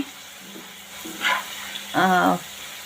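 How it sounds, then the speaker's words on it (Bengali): Potatoes fry in a pan while iftar food is being prepared, giving a steady low hiss, with two short voice-like bursts rising above it near the end. "আলু ফ্রাই করতেছি"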